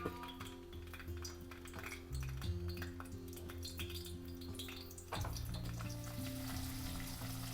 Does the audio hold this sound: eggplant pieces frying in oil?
yes